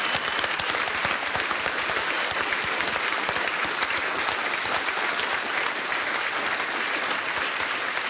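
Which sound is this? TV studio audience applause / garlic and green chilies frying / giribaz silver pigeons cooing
TV studio audience applause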